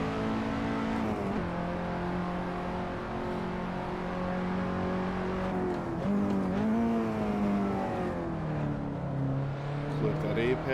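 A KTM X-Bow race car in a racing game at Silverstone accelerates steadily, its engine holding a droning, rising tone with small pitch shifts through a corner, under continuous talk.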